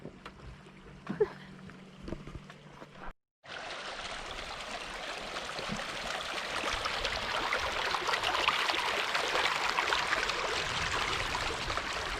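Steady rushing water of a creek flows continuously, growing fuller and louder after a brief cut, with no talking.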